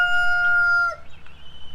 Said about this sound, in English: Thank you, Rooster Rooster.